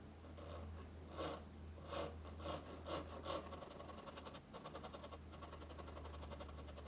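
Hand carving the wooden body of a custom 7-string guitar in ziricote and black limba, with a series of rhythmic rasping strokes at roughly half-second intervals, then quicker finer scraping, over a steady low hum.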